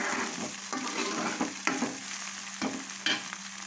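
Ginger paste and garam masala frying in a pan for fish curry, a steady close sizzle with intermittent scrape and stir knocks, no talking.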